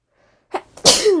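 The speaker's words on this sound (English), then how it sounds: "I'm gonna sneeze." A close, loud sneeze: a quick intake of breath, then a forceful explosive burst with a trailing vocal tail.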